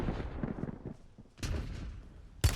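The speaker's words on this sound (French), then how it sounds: "J'ai su des tirs." Gunfire in the video game Warzone: a run of quick muffled shots early on, then a heavier burst midway and a sharp loud crack at the end, fairly close and punchy.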